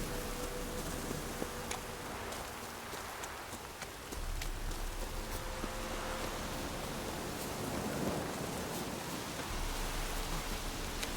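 Steady rain hisses across the whole stretch in Witcher 3, a broadband wash with faint insect-like buzz; no clear thunder crack stands out, and no one speaks.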